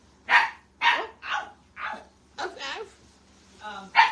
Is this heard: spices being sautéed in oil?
no